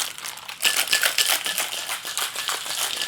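Ice cubes clatter and rattle loudly into a cocktail shaker while a Hemingway Daiquiri is being mixed, a dense burst of clinks after a brief quieter start.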